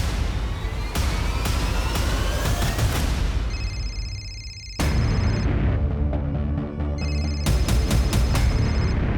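An electronic phone ring repeats in short bursts, loud and close, over a dense rumbling background with a brief drop to near quiet midway.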